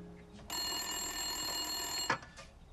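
An old-style telephone bell rings loudly and alone in a Portuguese-language drama, a continuous metallic trill lasting about a second and a half before stopping abruptly.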